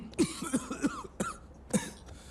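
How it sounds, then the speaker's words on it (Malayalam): A person with a sore throat coughs several times in short, rough bursts spread across a couple of seconds, fairly close and with no talking. "ചുമ."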